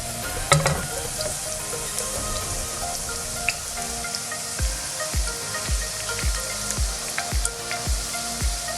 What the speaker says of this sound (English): I'm gonna add the onions now.